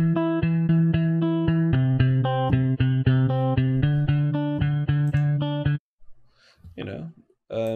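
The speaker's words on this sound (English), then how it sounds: "you get these mid-low arpeggios and they sound like this." Indie Fingers Vol I guitar library on the bridge position playing mid-low arpeggios, a steady run of bright plucked notes for about six seconds that stops abruptly, followed by quieter scattered sounds.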